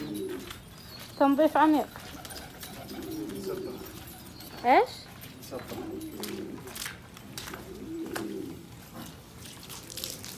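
Pigeons coo in a backyard bird pen during a deep cleaning, with two short cooing bursts standing out near the start and middle over a low murmur of ambient noise and some talk.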